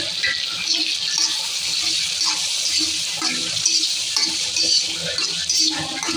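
Water poured into a pan of cooking masala for Rayalaseema uggani, a steady close trickle and splash with faint stirring, no voices.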